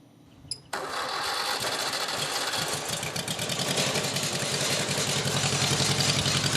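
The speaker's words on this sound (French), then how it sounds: "vous vous trouvez devant un tracteur français de la marque Pony, fabriqué par Massey Ferguson en France" A 1950s French-built Pony tractor by Massey Ferguson starts and then runs with a loud, steady, rapid mechanical chatter that grows slightly stronger over several seconds, with no talking.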